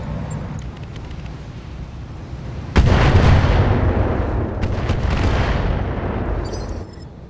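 Mech weapons fire in the video game Roguetech/Battletech: a sudden heavy boom midway that rolls into a long, loud rumbling barrage before slowly fading, with faint clicks and game sounds around it.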